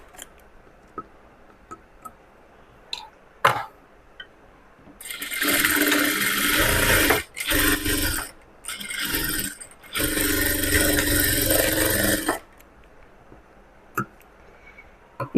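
A sewing machine stitches the armhole side of a sleeveless frock, whirring steadily in several loud runs separated by short pauses, with soft clicks and handling noise before and after.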